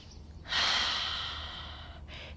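A long, audible inhale through the nose during a rhythmic yoga flow, close and airy, swelling and then fading over about a second and a half, with a quieter breath following.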